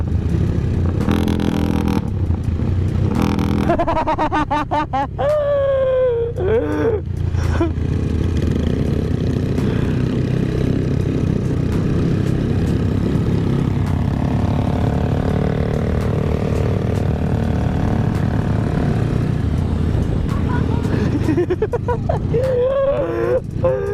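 A Honda Tiger motorcycle engine revs hard through a faltering exhaust several times, then settles into a steady rumbling idle before revving again near the end.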